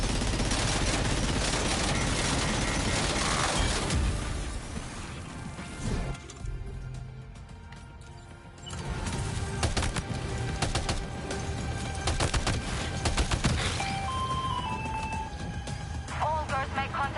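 Gunfire in Death Stranding 2 from a weapon with heavy recoil, dense bursts of sharp cracks and impacts layered over game noise and a talking voice, thinning briefly mid-clip before the shooting and clatter resume.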